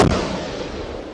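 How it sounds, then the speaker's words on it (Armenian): A mortar shell blasts in the border village of Khramort: a sharp, loud burst at the start gives way to a dense, sustained rumble that fills the rest of the moment. "Խրամորդում առավոտից դարձյալ ականանետի արկեր են պայթում։"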